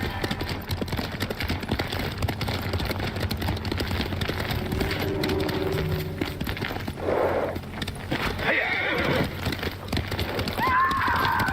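A horse gallops with steady clip-clop hooves in the samurai game Ghost of Tsushima, mid-ride along a road, and lets out a couple of clear whinnies near the end over a constant low rumble of background music.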